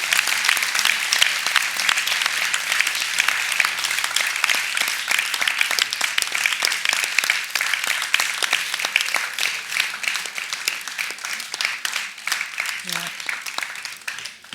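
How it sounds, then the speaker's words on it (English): A hall audience at an afternoon land art session claps steadily and loudly for a long stretch, with scattered cheers and voices mixed in, the applause thinning slightly toward the end. "Oké, cheer a little bit."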